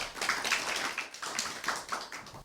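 Applause for competition participants at a science and innovation education event: a short, moderately quiet patter of clapping hands, fairly irregular and slightly distant, lasting a couple of seconds.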